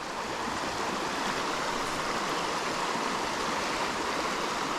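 A small mountain brook trout creek flows steadily nearby, a constant broadband rush of water with no breaks and no talking.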